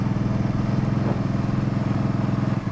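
A Can-Am Spyder three-wheeled motorcycle engine rumbles steadily and close, a loud, even droning pulse that holds through the ride with a brief surge in the middle as it slows under gradual braking.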